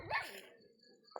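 A single dog gives a short, sharp bark close by, followed by quieter fading noise and a faint click at the end.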